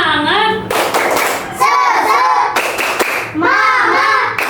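Schoolchildren perform a rhythmic 'tepuk semangat' clapping chant led by a teacher, with bursts of synchronized clapping and chanted voices alternating between short pauses, loud and close.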